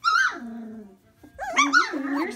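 A Great Mountainee puppy whimpers up close, giving two drawn-out, high whining cries separated by a brief pause.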